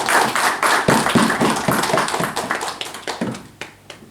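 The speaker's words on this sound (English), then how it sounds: "all of us need to give a very good round of applause to Surjo" An audience gives a round of applause for Surjo at a Rotary Club event, a dense burst of many hands clapping close and loud, thinning and fading toward the end.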